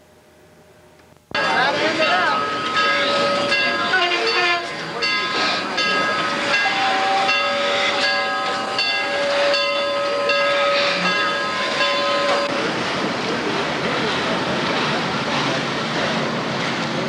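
A steam locomotive on a 1991 mainline excursion sounds a long, steady whistle with sustained steam hiss over rumbling rail noise, loud and close, with faint voices underneath.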